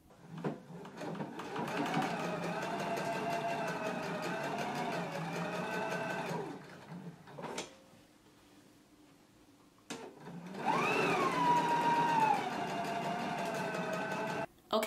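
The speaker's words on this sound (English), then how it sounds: "I'm going to go ahead and stitch in the 3/8 of an inch seam allowance" A sewing machine runs a 3/8 inch seam on a pair of pants in two long, steady bursts of close motor whir, separated by a short pause and a brief clunk. The second burst rises slightly in pitch.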